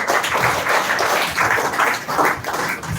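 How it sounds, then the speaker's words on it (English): Audience applause at a spoken English contest grand finale, loud close clapping in steady rhythmic bursts filling the whole stretch. "Please again give a huge round of applause for us."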